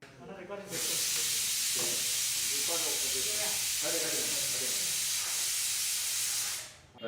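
A pressure cooker used for Daddojanam curd rice lets off a loud, steady blast of hissing steam that runs for about six seconds before cutting off, with a voice faintly audible underneath at the start.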